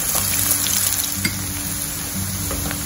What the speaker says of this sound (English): The oil is hot, so let's add the chopped onion first.